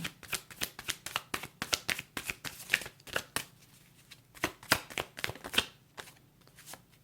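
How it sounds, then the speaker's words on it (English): Tarot cards are shuffled by hand in a quiet room, making a quick run of soft, papery riffles and slaps in uneven bursts, close and fairly faint, with no voices. "I'm going to pull one more card"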